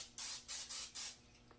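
Four quick bursts of oil spray from a can mist over broccoli florets before they go into an air fryer. The bursts are short and close, each about a quarter second, and a faint tap follows them.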